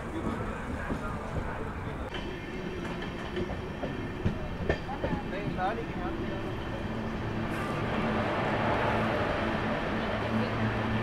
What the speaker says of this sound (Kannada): ಇದಾದಮೇಲೆ ನಮ್ಮ ಟ್ರೈನ್ ಮರ್ಜ್ ಆಗ್ತಿದೆ ಮೇನ್ ಸಿಂಗಲ್ ಲೈನ್ ಟ್ರ್ಯಾಕ್ಗೆ